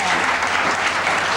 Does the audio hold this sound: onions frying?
no